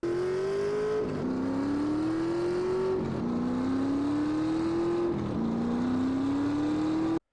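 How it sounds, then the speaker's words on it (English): A video game car engine, based on a Shelby 427 Cobra recording, revs hard and continuously, its pitch climbing in repeated sweeps with brief drops between gear shifts, loud and steady throughout. "they based each engine sound on the same sound clip, and the original sound clip is a Shelby 427 Cobra"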